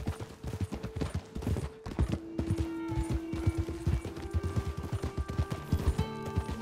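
Horse hoofbeats from a video game clip-clop steadily in a fast repeating rhythm, close and clear, with a sustained in-game tone and occasional sharp effects underneath; no one talks.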